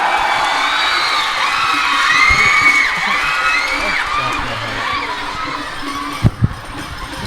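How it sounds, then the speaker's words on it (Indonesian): Students at a Maulid Nabi celebration at a Jakarta madrasah cheer and shout for an arriving guest, a bright crowd roar of whoops and children's voices, with a couple of sharp thumps near the end. "Berikan tepuk tangan yang meriah."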